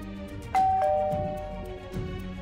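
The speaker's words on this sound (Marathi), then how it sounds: "बेल वाजली." A two-tone doorbell chime rings once, clear and fairly close, its tone fading slowly indoors in a quiet house, with faint low background sound afterward and no talk.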